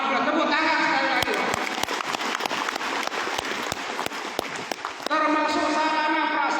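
Audience applause at a Ramadan safari gathering, a crowd clapping steadily under someone speaking loudly over a PA, with sharp individual claps standing out.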